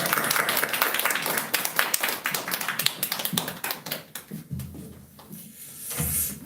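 A church congregation applauding as the pastor comes forward at a revival meeting, a dense burst of many claps that thins out and fades toward the end, with some voices underneath.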